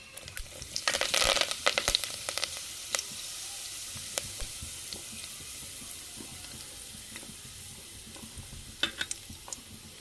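Fenugreek seeds and curry leaves crackle and sizzle in hot oil in a pan, with a burst of loud spitting early on settling into a softer, steady frying hiss with scattered pops.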